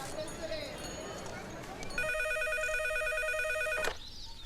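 A telephone rings with a steady electronic trill for about two seconds, loud and close, following a stretch of background chatter and noise.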